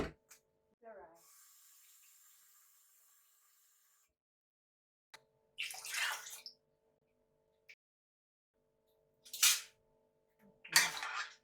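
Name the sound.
water added to coconut rice for cooking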